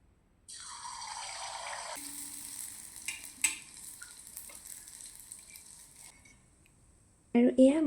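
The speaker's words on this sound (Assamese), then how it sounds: "আৰু এয়া মোৰ গোটেই পিঠাখিনি ভাজি লোৱা হৈ গ'ল" Bor pitha rice cakes frying in oil make a soft, steady sizzle that fades in and goes on at a moderate level, broken by a few clinks. It ends with a brief louder clatter.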